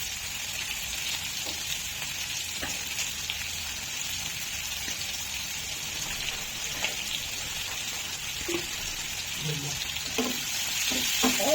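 Onions frying with a little sugar for an egg curry with cashews and raisins: a soft, steady sizzle with faint stirring scrapes that grow louder and busier toward the end.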